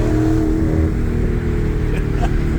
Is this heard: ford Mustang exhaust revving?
yes